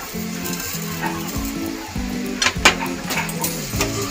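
Grated carrot halwa with sugar being stirred in a pan, a close sizzle with repeated scraping and stirring strokes in an uneven rhythm, a few sharper clinks of the utensil against the pan, no talk.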